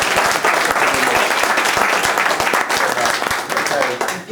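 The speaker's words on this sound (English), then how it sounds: "I think we should have an even bigger round of applause for Mick for taking all this crap" Loud, sustained clapping from a crowd at a Citrix technology event, many hands at once with a few sharper individual claps, tapering slightly at the end; voices may mingle faintly underneath.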